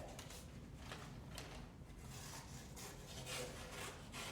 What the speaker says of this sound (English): And then I'm going to cut a second thin strip.